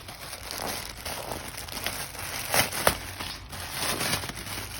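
Plastic bag crinkling while a toy parcel is unpacked, with rustling and crackling handled close by, irregular and continuous with a few sharper crunches in the middle.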